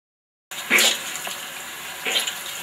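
Water splashes down into a bathroom sink after a moment of silence, with a burst of splashing followed by a steady trickle and a second, softer splash near the end.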